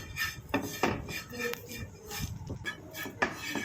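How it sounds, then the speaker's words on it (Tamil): Powder being stirred in a pan on the stove, a spoon scraping and knocking against the metal in quick irregular strokes, close and fairly soft, with no voices. "நல்லா இந்த மாதிரி கலந்து விட்டுக்கிட்டே இருக்கலாம்"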